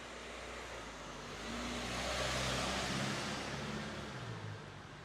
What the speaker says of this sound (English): I'll wait for the diesel van to go past.